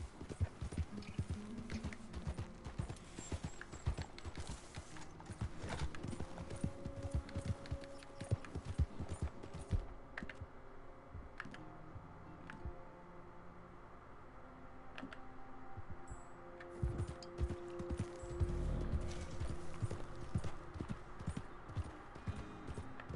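Horse hooves clip-clop in a steady galloping rhythm while riding in the video game Red Dead Redemption 2, a quiet, continuous patter with faint game ambience and no talk.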